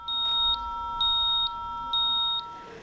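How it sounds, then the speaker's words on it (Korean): Repeated electronic beeps from an accident alarm on a farm machine's wireless terminal, which sounds when the machine tilts past 45 degrees: about five evenly spaced high tones, steady and clear, over a constant background hum. "농기계에 부착된 무선통신 단말기가 45도 이상 기울어지면 사고 발생 경보를 울리고"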